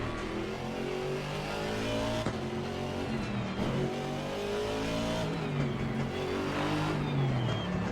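Aston Martin GT3 race car engine in Assetto Corsa Competizione, a steady loud roar with rising and falling revs through gear changes, continuous and close throughout.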